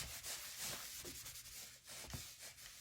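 Rubbing and burnishing a sticky vinyl transfer onto a DIY Dollar Tree laundry sign, a steady close scratchy friction with repeated strokes and no talk.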